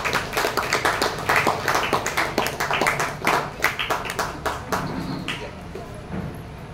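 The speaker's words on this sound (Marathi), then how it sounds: "टाळ्या वाजवून त्यांचं स्वागत करूया आपण." An audience applauds to welcome a speaker onto a stage, a dense, fairly close burst of many hands clapping that gradually thins toward the end, with a voice briefly heard beneath it.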